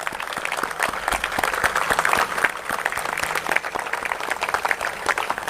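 A standing audience at an employee training and motivational event claps heartily, with dense, steady applause that carries on throughout.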